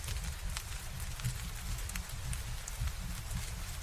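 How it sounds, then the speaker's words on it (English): Rain patters softly and steadily on the glass window of a night sleeper train heading to the Scottish Highlands, over a low rumbling undertone of the moving carriage. "The rain stays outside on the glass."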